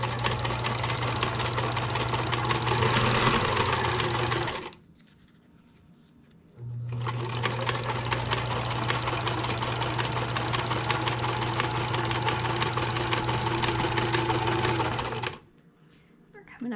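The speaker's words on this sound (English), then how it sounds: "as I get to the end, I'm gonna just reverse stitch" A sewing machine stitches a Minnie ear keeper with a steady, close mechanical whir in two long runs separated by a brief pause.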